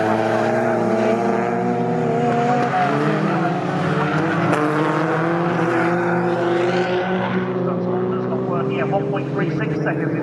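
Race cars, VW Scirocco and Golf GTI models, race at the Snetterton circuit, their engines droning loudly and steadily with shifting pitch as they pass, while a commentator talks over the racing.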